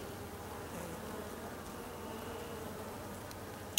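Honey bees drone around beehives in a steady, even buzz that fills the air at close range, with no voices.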